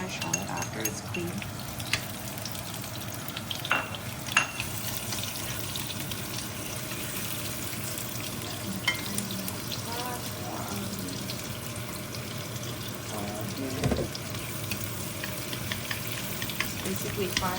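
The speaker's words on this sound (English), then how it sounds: "Basically frying the shallot at this point until it gets golden" Shallots frying in oil for Vietnamese bun thang, a steady dense sizzle that runs the whole time, close and fairly loud, with occasional clinks and scrapes of stirring.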